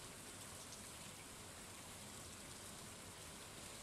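Steady rain from the video game Stardew Valley, heard during in-game fishing: an even, continuous hiss of falling drops, soft and unbroken throughout with no voices.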